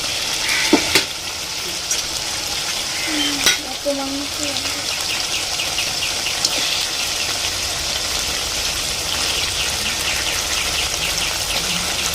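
Mutton pieces added to fried spice masala in a pan over a clay stove, a continuous dense sizzle and frying hiss with a few brief clatters near the start.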